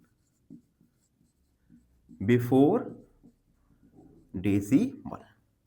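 A pen scratches out a few short strokes on paper during a decimals maths lesson, with faint scrapes between stretches of a person talking.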